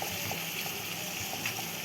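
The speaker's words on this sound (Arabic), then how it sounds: "وهنزل بميه مغليه" Boiling water poured into a pan of chopped tomatoes frying over high heat for shakshuka, a loud, steady hissing gush and sizzle throughout, with no talking.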